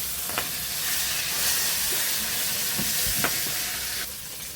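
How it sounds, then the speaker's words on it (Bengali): A fish head sizzles loudly in hot oil in a pan while being broken up, a dense continuous hiss with several sharp scraping clicks from the spatula, no voices. "একটু ভেঙে ভেঙে একটু কড়া করে ভেজে নেব।"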